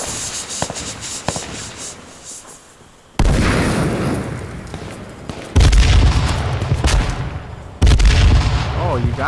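Gunfire and heavy booms in the video game H1Z1, with sudden loud blasts hitting in three waves after a quieter opening of faint pops, voices heard underneath.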